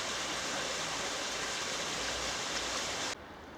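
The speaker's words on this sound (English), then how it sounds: "As you can see, a chalk stream," Flowing water of the River Mimram, a chalk stream, heard as a steady, dense rushing wash with no talk, ending abruptly into a quieter hiss.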